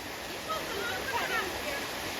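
A waterfall in Uttarakhand fills the scene with a continuous, steady rushing hiss of falling water, close and fairly loud.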